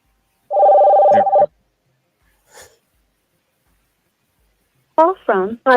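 A telephone call rings once with a steady electronic tone lasting about a second, falls silent, then connects as a voice comes through the line.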